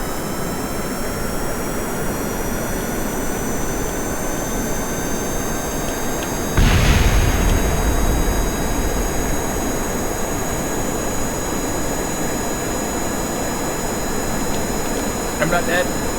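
Rocket engines at full throttle in Kerbal Space Program give a loud, steady roar with a constant hiss. A burst of louder rumble comes partway through, and the roar carries on with no voice over it.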